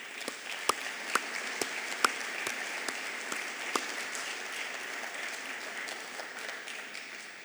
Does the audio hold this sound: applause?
yes